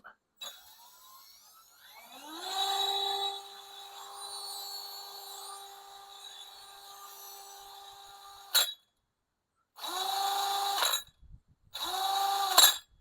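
An electric drill spins up to a steady, high whine with a metal propeller chucked in like a drill bit for a drill-powered kayak, cuts out, then whirs again in two short bursts.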